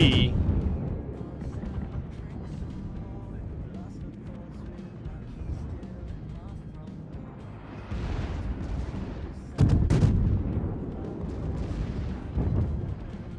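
Naval guns on a Duca degli Abruzzi cruiser firing armor-piercing shells in World of Warships, heavy booming blasts under a continuous low game rumble, with a loud burst near the ten-second mark and another near twelve.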